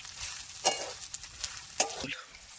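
Dried Bombay duck fish fries in a pan for a spicy chutney, giving a continuous close sizzle with two sharper stirring scrapes and no talk.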